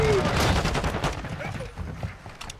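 Rapid bursts of gunfire from a first-person shooter match in Call of Duty: Modern Warfare II, loud and dense, with shouted voices over the shots.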